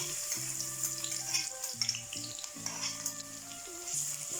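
Crushed garlic frying in a pan for stir-fried pork with cabbage, a steady hiss of oil under repeated tonal hums and occasional clinks, close and moderately quiet, with no talking.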